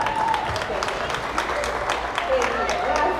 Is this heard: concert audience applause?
yes